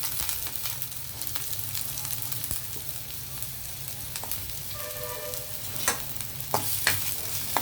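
Onion fries in hot oil in a kadai, a steady close sizzle dotted with sharp crackles and spits that grow slightly busier toward the end.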